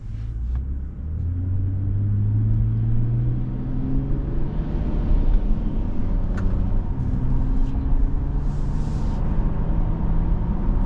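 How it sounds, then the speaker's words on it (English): A 2024 Toyota Camry XSE V6 cruises on the road, heard from the cabin as a steady low engine hum and tire rumble with gentle rises in revs. "we're on the road now in this 24 Camry XSE V6"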